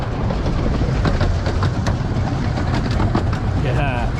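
A train rolls over a switch track, a steady loud rumble with scattered sharp clicks and clacks from the wheels crossing the points, heard close throughout.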